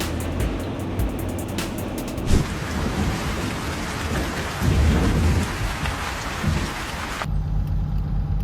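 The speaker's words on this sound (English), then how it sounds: "was treated to an impressive lightning display as a storm passed by" Heavy rain pours steadily during a thunderstorm near Summit, South Dakota, with rumbling thunder swelling twice and a sharp crack midway, the downpour loud and continuous throughout.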